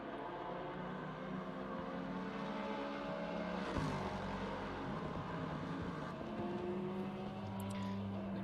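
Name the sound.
Lexus race car engine roar in video game Assetto Corsa Competizione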